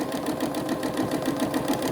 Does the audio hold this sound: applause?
no